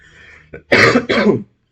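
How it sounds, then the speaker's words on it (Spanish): Two harsh coughs close to the microphone, one right after the other, following a brief throat sound. "Ando con un poquito de tos, como podrán ver."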